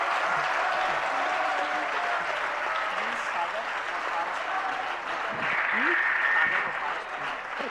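An audience claps steadily at a Jain religious discourse gathering in Agra, a dense, continuous wash of hand claps that holds at an even level for several seconds.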